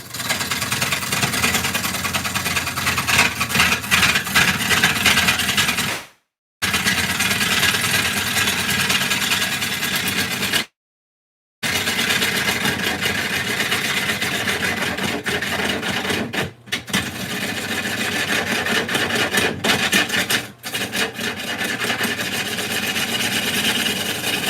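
A wood lathe turning a cracked bowl, its motor humming steadily while a tool rasps and scrapes against the spinning wood, loud and close with a few short dropouts, no talk.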